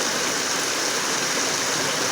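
River water rushing steadily past a house foundation, a dense, continuous broadband wash with no breaks or other sounds.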